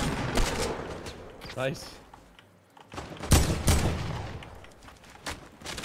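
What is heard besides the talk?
gunfire in Fortnite Battle Royale video game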